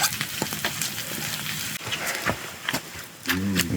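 Bacon sizzles and crackles in a pan on a camp stove during a winter storm camping trip, a steady dense frying hiss with scattered pops and brief scraping stirs, fairly close.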